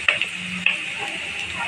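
Ginger garlic paste fries in oil in a pan for a Telugu moong dal and fenugreek leaf curry, giving a steady close sizzle with a few sharp stirring scrapes and spatters near the start and middle.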